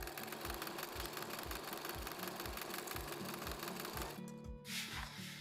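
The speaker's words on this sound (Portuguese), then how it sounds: "Continuo no ritmo normal da costura." A sewing machine stitches a denim bag near its zipper, a fast steady mechanical chatter with rhythmic low thumps that pause briefly near the end.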